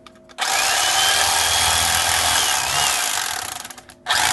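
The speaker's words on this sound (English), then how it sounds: "I use my electric fillet knife here" An electric fillet knife cuts through a bluefish or flounder, a steady loud buzzing whine running for several seconds, faltering and fluttering near the end before a brief restart.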